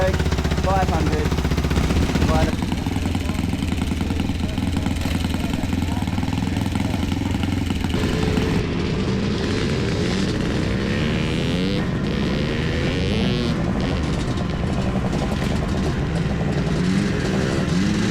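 A vintage 4-stroke 500cc motocross motorcycle runs loud and close at a classic motocross race meeting, a continuous rough engine drone with other engines and crowd noise blending in, and voices talking over it.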